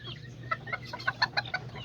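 A yellow giro rooster clucks in a quick run of about six or seven sharp, close calls, rising in loudness mid-sequence over a low steady hum.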